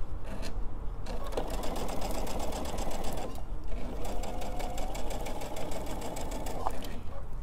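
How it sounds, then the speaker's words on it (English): A sewing machine runs in steady bursts, stitching a minky fabric stuffed pillow, loud and close, with a short pause before the machine resumes its rapid stitching rhythm. "All right, so let's stitch this on so it will stay while we're sewing."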